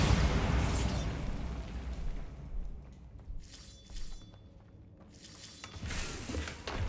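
Bombarda spell blast in Hogwarts Legacy: a loud booming explosion with crumbling debris that fades, followed by scattered crackling and clattering bursts and a second rush of noise near the end.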